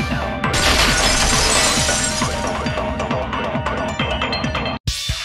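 Window glass shattering in the Danganronpa 2 video game, a loud sustained crash of breaking glass over dense game music lasting several seconds, then a brief cut to near silence before the music resumes.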